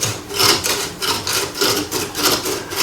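A nano scraper rubs algae off the glass of a reef aquarium with loud, rhythmic rasping strokes, about five scrapes in a steady back-and-forth pattern, close up and clear.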